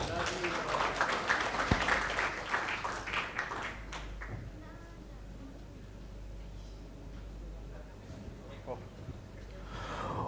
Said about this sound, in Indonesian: Sekali lagi kita beri tepuk tangan kepada narasumber kedua kita.